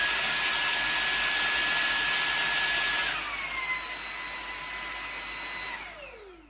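LEVOIT LVDC200 cordless vacuum cleaner whining steadily on turbo, a high motor tone that steps down partway through, runs on more softly, then winds down to silence; fairly quiet and close, with no talking.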